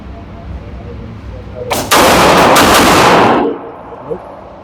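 A Great Lakes Synergy gun fires a fast string of shots, loud and close, run together into a roughly one-and-a-half-second burst after a brief lead-in, followed by a faint click.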